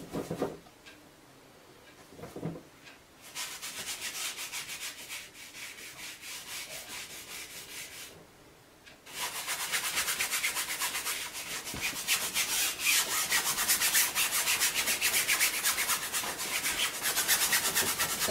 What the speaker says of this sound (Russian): Строительная кисть работает быстро и эффективно.